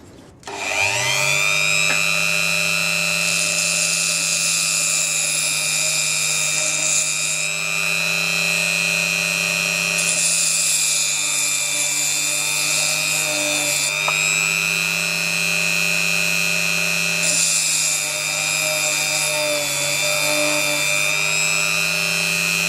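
Rotary tool with grit and lubricant smoothing the inside of a hole drilled in a gemstone: a loud sustained high-pitched whine with shifting tone as the bit works, continuous with no talking.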